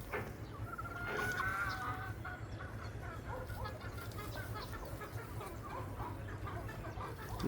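Chickens clucking on a farm on an overcast day, several birds giving short repeated clucks and a brief higher call near the start, moderately close over a low steady rumble.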